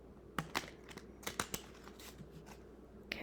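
Papers being shuffled and handled at close range, giving a quiet, irregular series of crisp rustles and flicks with short pauses between them.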